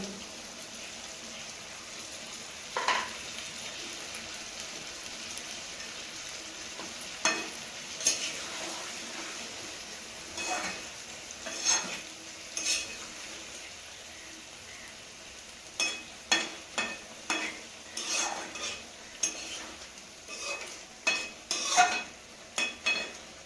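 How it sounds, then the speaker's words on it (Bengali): Cumin and chili paste are stir-fried in a pan, with a soft steady sizzle under repeated scraping strokes that come faster and closer together toward the end. "জিরে আর মরিচ বাটাটা দিয়ে দেব"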